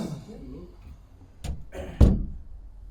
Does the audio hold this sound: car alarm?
no